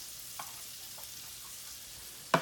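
Sliced garlic sizzling gently in a pan while making gravy for smothered pork chops, a faint steady hiss with a few light stirring taps and a sharp clatter right at the end.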